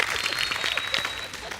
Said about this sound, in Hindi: जोरदार तालियां फीकू भाई,